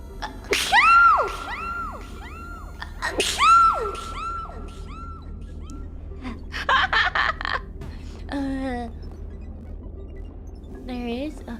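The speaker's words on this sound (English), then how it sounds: "I need to sneeze." Sneezes and sneeze-like bursts break out between voiced calls and laughter, several sharp explosive outbursts spread across the stretch with talk around them.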